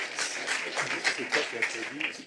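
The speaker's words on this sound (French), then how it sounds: "je pense que c'est la question qui est applaudie" Audience at a climate forum breaks into brief applause, a soft patter of clapping with murmured voices mixed underneath.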